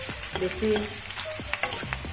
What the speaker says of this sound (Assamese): পিয়াজখিনি দি এনেকৈ লাৰি আছো